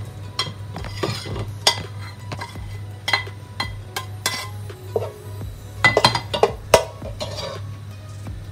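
A spoon stirs masala in a pressure cooker over a lit flame while nihari gravy is being made, producing irregular metallic clinks and scraping strokes, sometimes in quick clusters, over a steady low hum.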